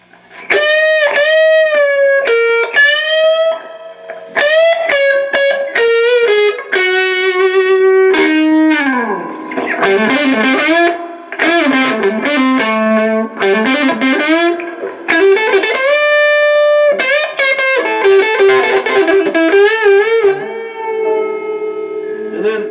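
Electric guitar played through a Supro amp with reverb turned up on the treble pickup, giving bright, distorted sustained notes and bends in a loud, continuous melodic passage with no talk.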